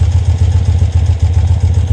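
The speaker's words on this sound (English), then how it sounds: "turn on the engine." A loud engine idles with a steady, pulsing low rumble and rhythmic throb, close by with no voices.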